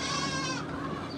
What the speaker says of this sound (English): We've got 2 goats in here.